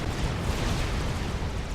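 Mantis units firing in a Supreme Commander battle, a dense, continuous rumble of overlapping weapon fire and explosions that fills the brief moment without any break.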